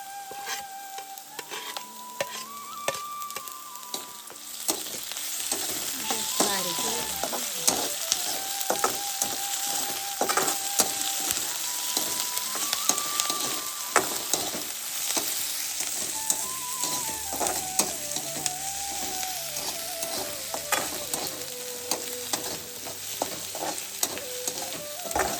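Onion sautés in a pan with crushed green chillies and garlic, giving a continuous close sizzle with frequent stirring scrapes. Faint melodic tones sound in the background.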